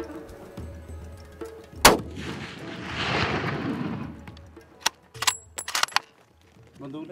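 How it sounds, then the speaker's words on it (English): A single sharp rifle shot cracks out during an ibex hunt in the hills of Sindh, Pakistan, followed by a rolling rumble, then scattered clicks and rustling close by. "we just took a shot at this Ibex, big Ibex, just as he was going over the hill"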